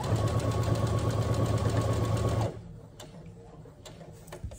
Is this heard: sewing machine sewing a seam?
yes